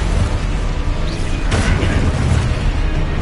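A Confringo fire spell blasts in Hogwarts Legacy on PS5, a sharp burst near the middle of a dense, steady rumble of game noise, with no talk.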